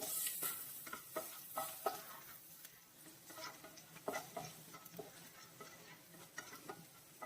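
Three cloves of crushed garlic fry in a pan while being stirred, producing quiet, rhythmic spoon scrapes over a faint, steady sizzle.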